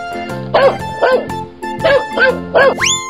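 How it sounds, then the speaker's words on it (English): A cartoon dog gives a run of about five short, bright barks in quick bursts, close and loud, ending with a rising, whistling flourish. "Dog."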